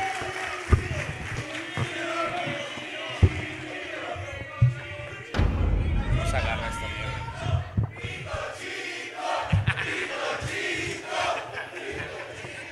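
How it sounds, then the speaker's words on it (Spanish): A comedy roast show audience roars with cheering, whoops and scattered clapping, with thumps and shouting voices rising and falling over several seconds, lively and fairly close. "Fuerte el aplauso para el cojo feliz"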